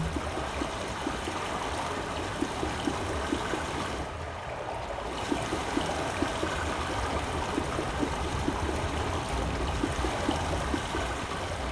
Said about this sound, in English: Pipe water is flowing